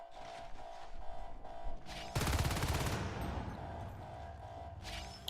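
Gunfire in the video game Natural Selection 2 during a competitive match, with a loud burst of rapid automatic shots and crashing impacts in the middle, surrounded by denser game noise and a steady tonal hum.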